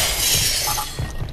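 Loud glass shattering in a Roblox horror game, a sustained crashing burst with scattered tinkling fragments over about a second, heard alone.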